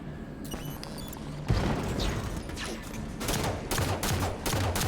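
In the Halo 5 campaign, a grenade goes off with a heavy boom amid rapid, sustained gunfire, with bursts of shots continuing loud and close after the blast.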